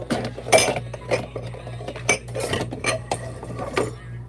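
Dishes and cups clinking while being washed up at home, with irregular bright clatters and chinks of crockery and cutlery near at hand over a low steady hum.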